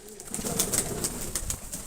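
Mykolaiv pigeons coo softly and steadily at a pigeon loft, with a low continuous murmur of several birds nearby and no talk over it.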